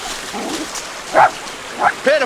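Dog in a television Western yips and whimpers in a few short, sharp bursts, mid-distance, mixed with background voices and scene sound.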